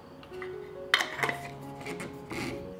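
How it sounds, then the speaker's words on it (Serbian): Clean new lids go onto glass jars filled with water, giving a few close, sharp metallic clinks and a short scrape against quiet background tones. "I tegle zatvaram sa čistim i novim poklopcima."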